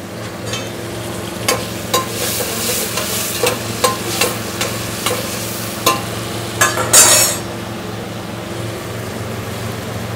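Onion browning in a pan with salt and black pepper, stirred now and then: a steady close sizzle with repeated short scrapes of a utensil against the pan, for bean and meat stew.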